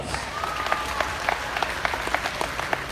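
An audience at a livestock show claps steadily for a few seconds, a dense, even round of applause heard from within the crowd.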